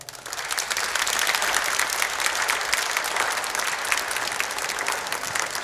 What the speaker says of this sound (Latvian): Lūdzu, aplausus viņai.